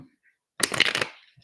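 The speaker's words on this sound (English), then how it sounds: "Oh, one more shuffle." Tarot cards shuffled close up during a reading, one quick riffling burst of crisp papery flutter lasting about half a second, alone after a quiet pause.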